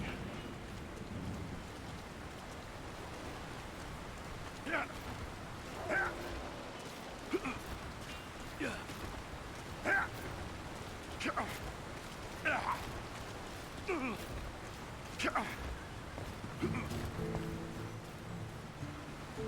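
Steady rain hisses over a town in the fantasy video game Lord of the Rings: War in the North, a soft continuous downpour with faint periodic taps and murmurs, and low voices near the end.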